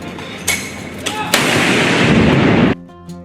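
Loud gunfire or cannon blasts from pistols, rifles or artillery: a few sharp reports around half a second and one second, then a heavy booming blast with a long roaring tail that cuts off abruptly, followed by a brief tonal hum.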